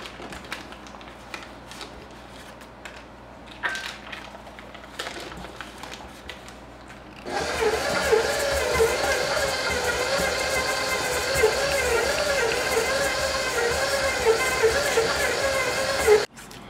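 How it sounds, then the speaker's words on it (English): A stand mixer creaming sugar and butter starts up partway through and runs with a steady, loud whirring and rhythmic churning that continues to the end, after a stretch of quieter kitchen handling noises. "I'll put in the sugar and the butter in my stand mixer"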